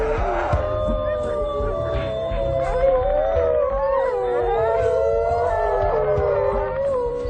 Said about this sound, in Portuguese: Os uivos os ajudam a se juntarem.